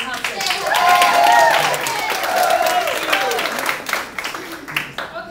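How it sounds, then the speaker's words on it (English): Audience applause at an open mic night, a steady wash of clapping that swells early and then tapers off, with cheering voices and chatter mixed in. "Round of applause for Hudson."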